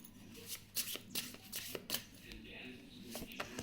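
Tarot cards being shuffled by hand, a run of crisp riffling bursts and soft flicks, close and moderately loud, with a faint voice in the background.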